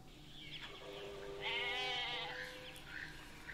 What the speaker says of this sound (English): Poor goat.